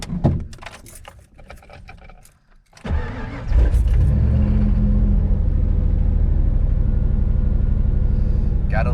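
Fuel-injected engine of a 1993 Ford Lightning pickup truck cranks briefly and catches, settling into a steady, close, rumbling idle after some interior rustling and handling noises.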